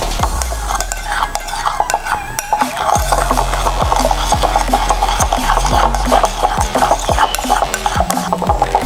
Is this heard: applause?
no